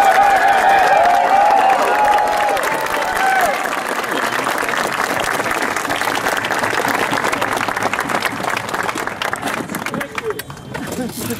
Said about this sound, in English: Let's have one more round of applause for Captain Lovell